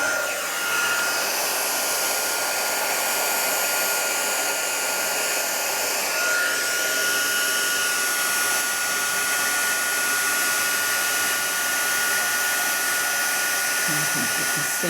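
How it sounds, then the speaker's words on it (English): Steady loud whooshing blast of a handheld heat tool warming copper embossing powder for a gift box, running continuously throughout at close range with no speech. "I'm going to put my heat tool on"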